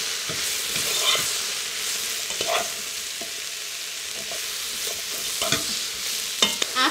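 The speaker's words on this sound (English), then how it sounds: "you're just gonna cook it until the mushrooms are nice and tender" Sliced mushrooms fry in a pan with a bright, continuous sizzle, broken by scattered stirring scrapes and clicks close by.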